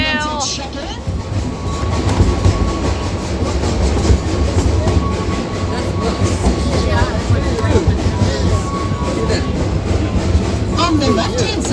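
The Hesston ghost train's ride cars climb uphill with a continuous rumbling, clattering roll of wheels on track that stays close and loud throughout, while riders talk over it.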